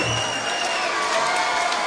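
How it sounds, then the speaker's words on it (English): A fight-night crowd at a UCC combat sports event applauds and cheers the runner-up, Lee Johnson, in a loud, continuous roar of clapping and shouts filling the hall. "a big round of applause for your runner-up tonight, Lee Johnson"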